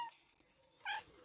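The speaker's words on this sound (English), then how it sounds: "My cat's here, sorry about that if you can hear her." A pet cat, a female, calls out briefly indoors, one short tonal meow-like cry near the end over a quiet room hum; no talking.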